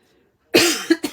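A woman with a tickle in her throat coughs up close after a moment of silence, giving one longer rough cough and then two short ones.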